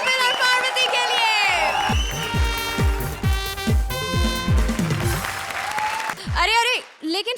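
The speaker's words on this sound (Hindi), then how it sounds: "जोरदार तालियां कपिल और पार्वती के लिए।" A studio audience claps loudly and steadily for a comedy act featuring Kapil and Parvati on a Hindi comedy show, the applause swelling with scattered cheers, then fading as voices and laughter break through near the end.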